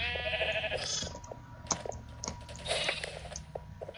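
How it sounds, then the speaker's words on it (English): Minecraft sheep bleat in a clear wavering call at the start, followed by scattered softer bleats and small clicks at close range, with no talking. "Yes, get all those lovely, lovely sheep."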